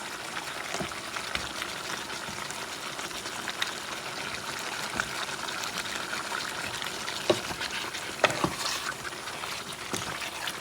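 A pot of Puerto Rican chicken wing stew with potatoes being stirred, wet bubbling and sloshing with scattered clinks and scrapes, steady and close, no talking.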